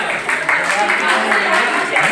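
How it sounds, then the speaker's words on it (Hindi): Schoolchildren clap for their teacher (madam) in a classroom, a dense, steady patter of many hands lasting about two seconds, close and fairly loud. "मैडम की तालियां"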